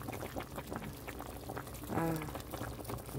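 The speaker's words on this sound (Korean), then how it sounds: "맛있게 끓고 있어요" Seafood curry with webfoot octopus and large prawns simmers in a pot, giving a steady bubbling and gurgling boil with a brief louder burst of rising bubbles partway through.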